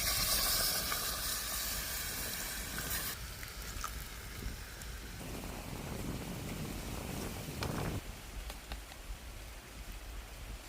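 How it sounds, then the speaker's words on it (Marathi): Hot water poured into a pot of mutton cooking over a wood-fired clay stove, a loud rushing hiss and bubbling steam that fades after a few seconds into a steadier simmering sizzle. "तर पातेल्यामध्ये आपण पाणी वतून देऊया"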